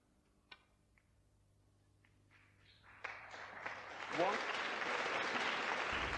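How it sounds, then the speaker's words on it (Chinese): Audience applause at a women's snooker world championship match, starting with a few scattered claps and swelling into a full, sustained round of clapping from the crowd. "打进这样一颗简单红球，都能引得现场观众如潮般的掌声"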